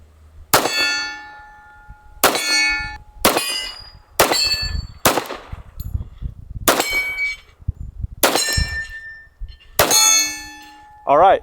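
About eight unsuppressed .45 ACP shots from a 1911 handgun ring out one by one at a steady pace, each a sharp, loud crack followed by a bright metallic ring.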